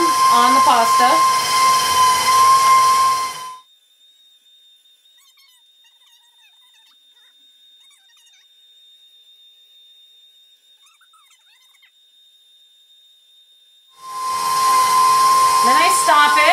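A KitchenAid stand mixer runs its pasta attachment to make fresh pasta, giving a loud, steady motorized whine in two bursts, one at the start and one at the end, with a long near-silent pause between them.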